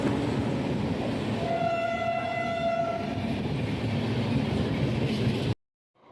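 Pallavan Express intercity passenger train pulling into Ariyalur station, a loud steady rumble of wheels and carriages with a sustained multi-tone horn blast in the middle, ending abruptly.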